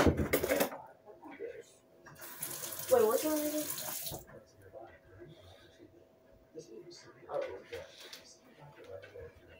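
Tap water runs into a sink in short bursts while hot and spicy noodle water is poured off, splashing loudly for a few seconds between quieter stretches with occasional clatter and a voice in the background.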